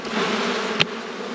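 Honey bees buzz in a steady, close drone as a hive frame is shaken during an inspection before almond pollination, with one brief sharp knock partway through.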